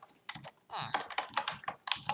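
Quick bursts of computer keyboard typing as a message is written into an Egg Wars game chat, sounding as close, uneven clusters of key clicks.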